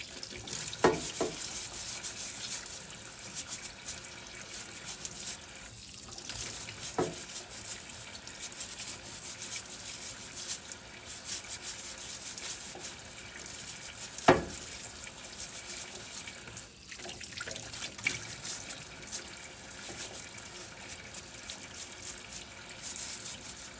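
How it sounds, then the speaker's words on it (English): Potatoes being scrubbed clean in a sink full of water under a running tap while canning, a steady hiss of flowing water with occasional soft knocks and splashes, no talking. "we're going to scrub our potatoes and get them clean"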